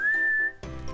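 A person whistles one steady sustained note for about half a second, close and clear, before the tone breaks off into rough, breathy noise.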